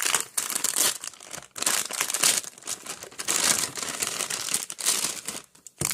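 Paper packaging for BTS fan goods from a design trade being torn and crinkled open up close, a loud continuous run of rustling, ripping and crumpling with brief pauses between pulls.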